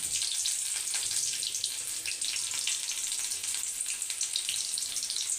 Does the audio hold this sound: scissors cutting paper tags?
no